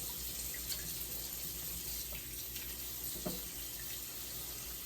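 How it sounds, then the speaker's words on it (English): A kitchen tap runs steadily into a sink while collard greens are rinsed, with a few light clinks and splashes over the constant water hiss. "Let this run this water out"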